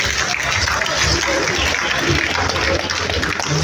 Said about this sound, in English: Another round of applause for our senator,